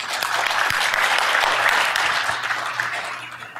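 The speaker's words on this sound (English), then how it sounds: "Let's give a big round of applause to Matt." A conference audience gives a round of applause, a thick, continuous burst of clapping at close range that swells and then gradually eases off toward the end, with a low hum beneath.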